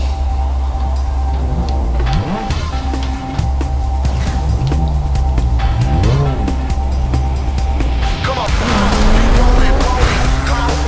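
A Golf GTI engine drones and revs while racing in Need for Speed 2005, loud and continuous with gear-shift pitch sweeps, tire and road noise, and someone talking over it.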